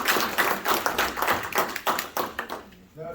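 A small audience at a museum symposium applauds with a run of distinct, fairly close claps in an uneven rhythm, which thins out and stops shortly before the end.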